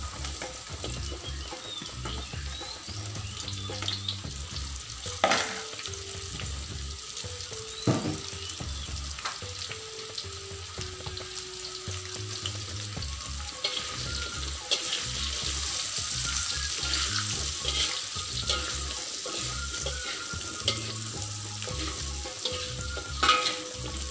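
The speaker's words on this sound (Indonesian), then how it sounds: "kita start goreng ni." Long beans with minced chicken frying in hot oil, a steady close sizzle with stirring scrapes and clinks of a utensil throughout, no talk.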